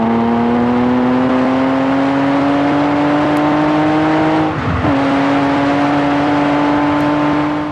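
Engine of a 1974 Lamborghini Countach LP400 drones loudly and steadily, its pitch slowly rising, then briefly dipping as if shifting before climbing again.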